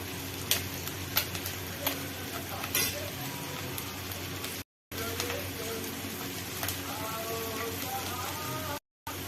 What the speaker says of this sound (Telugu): రెండు ఎగ్స్ పగలగొట్టి వేసుకుంటున్నాను.